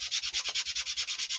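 Sandpaper rubs back and forth across a painted wooden clipboard in about a dozen quick, even strokes, close and soft, with no talking.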